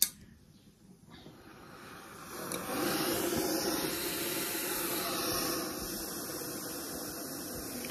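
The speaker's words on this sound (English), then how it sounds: "it's steam that is, you know, your most best part of doing your ironing" Steam iron releasing a steady hiss of steam during household ironing, starting after a brief quiet moment and continuing at an even, moderately loud level with no talking.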